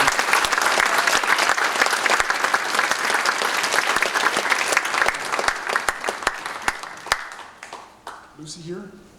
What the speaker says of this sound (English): please everyone join me with applause and acclaim in welcoming Ernest Crowley into the Armijo High School